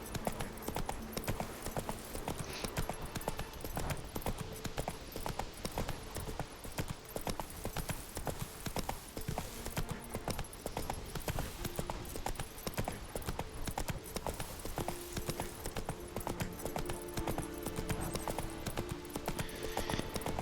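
Steady rhythmic clip-clop of a horse's hooves carrying a rider through The Witcher 3, continuous and fairly close throughout, with brief background sounds and little else.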